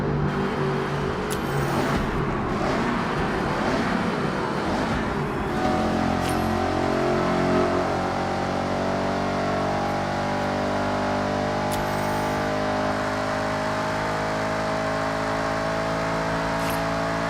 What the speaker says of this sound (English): RS5 is a really good car too, man. Listen to the engine.